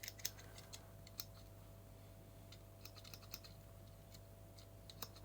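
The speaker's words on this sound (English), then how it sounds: "They sound like scissors." Small non-locking scissors on a Schrade Tough Tool multitool snip in faint, crisp, scattered clicks over a quiet room hum.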